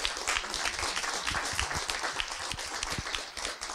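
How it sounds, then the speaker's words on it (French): Audience applause at a press conference unveiling a climbing project, steady dense clapping from a room of people lasting several seconds without any voices. "on pourrait même se permettre de donner une belle main d'applaudissement à Mario puis à Marc"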